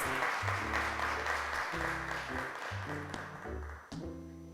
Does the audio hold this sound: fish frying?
no